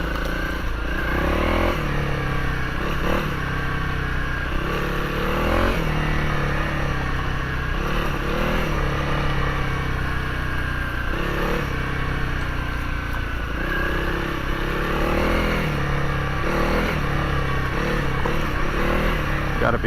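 A 2023 Honda CRF300L dual-sport motorcycle rides along an overgrown grassy trail, its single-cylinder engine droning loudly and rising and falling with throttle changes while the rider talks over it.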